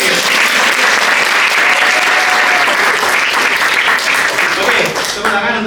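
An audience at a first-aid demonstration applauds in a loud, sustained wave of clapping that fades slightly at the end, with a voice speaking faintly over it.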